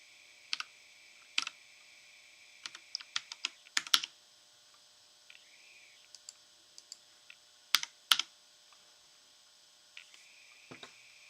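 Keys on a computer keyboard clatter in uneven bursts of quick clicks with pauses between, close and fairly quiet, while a steady electronic hum sits underneath and no one speaks.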